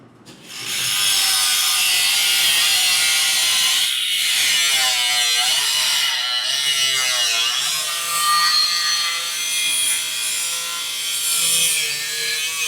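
A saw cuts through the front valance of a 1970 Plymouth Hellcat Cuda, its steady rasping strokes loud and close and carrying on almost without pause, a brief break near the start and no talking.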